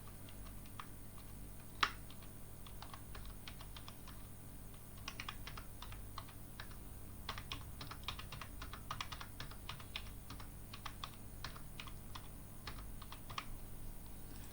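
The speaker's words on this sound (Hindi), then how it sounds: "कुछ भी डेटा इस तरह से टाइप कर रहा हूँ।" Rapid, irregular keystrokes clatter on a computer keyboard as data is typed into a Microsoft Excel spreadsheet, steady close-up tapping running the whole stretch with a sharper click near the start.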